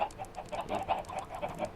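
Chickens in the video game Minecraft make a quick run of short, rhythmic clucks, several birds clucking close together and fairly faint.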